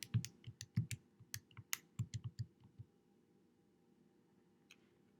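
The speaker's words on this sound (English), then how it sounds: "I'm going to type that in my calculator" Quiet close-up taps on a calculator keypad while figuring sales tax, a quick irregular run of small clicks for a few seconds, then near silence with one last tap.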